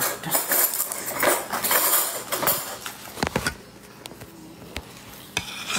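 Spoons and cutlery clink and scrape against dishes during a home lunch, a busy flurry of metallic taps and rattles that thins into a few sharp isolated clinks.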